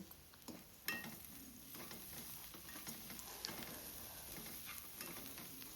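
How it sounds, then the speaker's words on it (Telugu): Onions and green chillies fry in hot oil, giving a soft, continuous sizzle with occasional light stirring clicks and pops. The sound is close but quiet and carries no speech. "ఇప్పుడు ఇదే ఆయిల్లోకి ఉల్లిపాయలు పచ్చిమిరపకాయలు వేసుకొని వేయించుకోవాలి"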